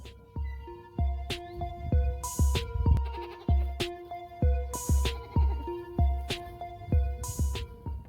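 Goats on a farm bleat loudly and repeatedly in short overlapping calls, several animals answering one another close by in a quiet pen, with no talk.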